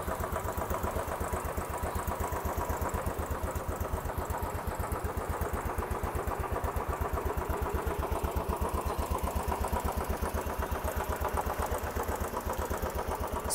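Stock-exhaust 2018 Royal Enfield Classic 500 in Gunmetal Grey with fuel injection, idling steadily up close in a fast, even thumping rhythm that holds unchanged throughout, with no voices.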